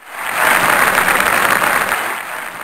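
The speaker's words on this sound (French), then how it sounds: "je vous prie de faire un tonnerre d'applaudissements à notre premier invité" A studio audience bursts into thunderous applause for the first guest on a French television energy programme, a dense, loud wash of clapping that swells quickly and holds steady before easing slightly at the end.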